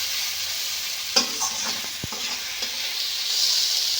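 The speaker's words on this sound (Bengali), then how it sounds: "মশলার সঙ্গে ভেন্ডিগুলো একটু বেশ ভালো করে মিশিয়ে নিতে হবে" Whole okra stir-frying with spices in a pan, a constant bright sizzle with a handful of scattered stirring clicks and one sharp knock, close and steady.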